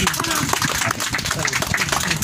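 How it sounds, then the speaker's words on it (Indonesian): An audience at a church gathering applauds in a dense, continuous wash of clapping, with crowd voices mixed in throughout. "Ya, tepuk tangan dulu"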